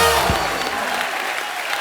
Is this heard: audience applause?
yes